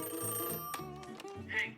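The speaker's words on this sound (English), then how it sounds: "It's me, pick up the phone." Telephone rings a few times in quick succession, bright and close, with a voice partly overlapping the ringing.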